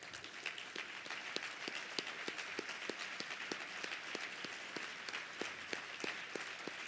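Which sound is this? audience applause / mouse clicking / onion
audience applause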